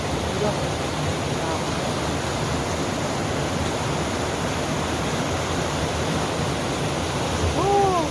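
Water pours over a waterfall below the Nong Wai dam in Thailand as a steady, loud, broadband roar throughout, with a faint voice briefly at the end.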